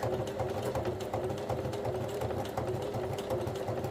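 A sewing machine stitches slowly through a thick journal cover, its motor humming with a steady, regular needle thump close by, running alone without talk.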